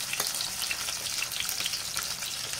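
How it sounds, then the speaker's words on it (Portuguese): Bone-in chicken thighs searing in a hot pan, with a dense, continuous sizzle and spitting crackle throughout, close and fairly loud. "Vamos deixar dourando, selando os dois lados."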